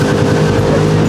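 1966 Ford Mustang GT Fastback engine revving hard and steady through a no-lift shift, a loud, close, continuous roar with no talk over it.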